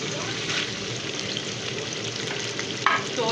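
Chicken pieces frying in hot oil for degi-style chicken korma, a steady close crackling sizzle throughout with a brief sharper burst near the end.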